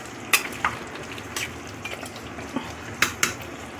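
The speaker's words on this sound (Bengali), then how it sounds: "এবার আমি এটাকে মিশিয়ে নিলাম।" Mutton rezala is stirred in a pan over a low, steady sizzle, with a few sharp clicks and scrapes of a spoon against the pan at close range.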